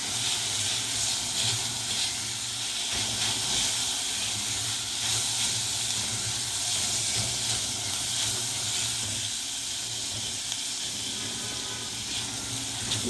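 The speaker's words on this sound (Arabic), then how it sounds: "بحمر البصله واتبلها كويس جدا بحته سمنه بلدي" Onion fries in local ghee (samna baladi) for a fish sayadeya rice dish, giving a steady, even hiss of sizzling fat that continues unbroken throughout.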